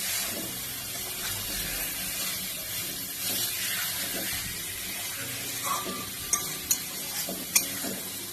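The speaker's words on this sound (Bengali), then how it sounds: "মশলাটা আমি খুব ভালো করে কষে নিচ্ছি।" Spice paste being stirred and fried with fried potatoes in a pan for a festive-style rohu fish curry, a steady soft sizzle with scraping stir strokes and a few sharp clinks of the spoon near the end.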